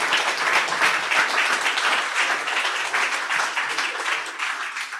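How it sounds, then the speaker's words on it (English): A large audience at an investment summit finale gives sustained, dense applause for the pitching companies and founders, steady and fairly loud throughout. "let's give a round of applause to these amazing companies and founders that you saw from tonight"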